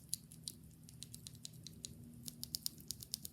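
A lubed Akko Jelly Black mechanical keyboard switch is pressed repeatedly, giving quiet, close clacks in an uneven run of soft taps.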